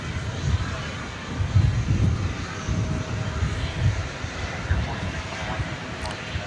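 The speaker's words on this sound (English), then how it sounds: "That is American Flight 577. It's going to the Smile High City of Denver. It's a 737-800." An American Airlines Boeing 737-800 departs DFW Airport at night for Denver, its jet engines a steady low rumble with some wind buffeting, heard at a distance beneath faint talk.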